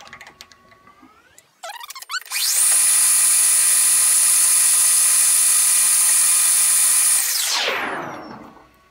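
A metal lathe takes a light finishing pass, spinning up into a loud, steady high-pitched whine with a strong tone that holds for about five seconds before winding down, with no talking.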